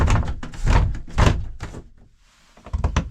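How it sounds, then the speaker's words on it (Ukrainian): A window closing on a Caravelair Sublim 510 touring caravan gives a run of close, dull thunks and knocks, with a short quiet spell before a final couple of bumps. "Закриваємо віконце."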